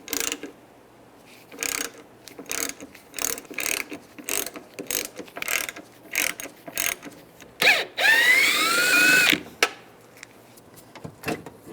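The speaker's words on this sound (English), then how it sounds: "Now we're going to take these bolts out right here." A hand ratchet with a T30 socket loosening the door latch bolts on a 2007-13 Chevrolet Avalanche, steady rapid clicking bursts in short strokes, with a brief squeaky scrape near the end.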